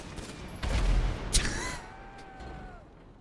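Video game gunfire from GTA RP: a short, rough burst of shots around a plane, with a sharp crack standing out over steady background rumble and engine-like hum.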